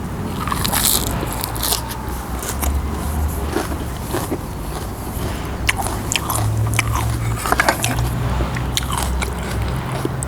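Close crunchy biting and chewing of a spicy Thai salad of mushrooms, glass noodles and crab sticks, steady crisp crackles and munching over about ten seconds, recorded outdoors with faint background noise.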